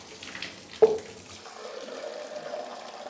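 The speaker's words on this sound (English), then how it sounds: "So turn the water on, just give it a rinse" A bathroom tap is turned on to rinse out a bath, a soft clunk followed by steady running water splashing into the tub, moderately close and continuous.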